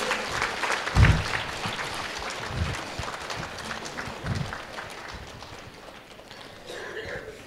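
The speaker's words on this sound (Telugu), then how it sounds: "స్వామీజీ వారికి ఒకసారి గట్టిగా చప్పట్లు కొట్టుకుంటూ" An audience at a Telugu avadhanam literary performance claps steadily and fairly quietly, a continuous wash of applause with a few heavier thumps and rustles.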